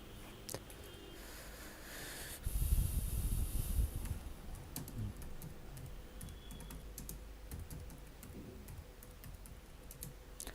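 Keys are pressed on a computer keyboard while text is entered into a slide. The taps come as quick, faint clicks in short bursts, with a brief louder rustle partway through.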